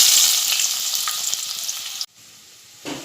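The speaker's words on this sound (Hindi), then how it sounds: "तेल गरम हो चुका है। अब मैं इसमें प्याज डालूँगी।" Onion goes into hot oil in a pot on a gas stove, a loud close sizzle and scraping stir that cuts off abruptly partway through before a brief return of sound near the end.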